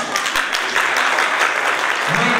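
Sustained applause from a theatre festival audience honoring the event's sponsors, a dense crowd of clapping hands that keeps up steadily at full strength throughout with no voices over it.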